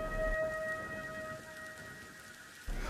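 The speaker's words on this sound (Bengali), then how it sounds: "অসময়ের বৃষ্টি, থামবার নাম নেই।" Steady light rain falls at night in a cartoon scene, a soft continuous patter beneath a sustained tonal drone that cuts off near the end.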